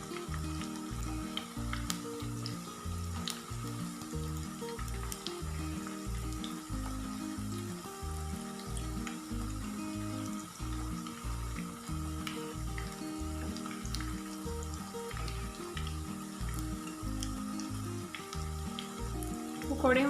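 Cabbage pakoras deep-frying in hot oil, a dense continuous bubbling sizzle with a steady pulsing texture throughout, close and fairly loud with no talking.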